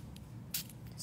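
A skincare product from a Biologique Recherche range is spritzed from a spray bottle, giving a short, soft hiss near the middle of a quiet room with faint low background hum.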